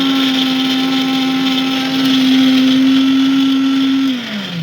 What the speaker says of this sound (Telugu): మనం మిక్సీ పట్టుకోవాలి